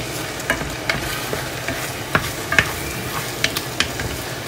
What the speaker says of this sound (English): Keep stirring up my vegetables and sausage.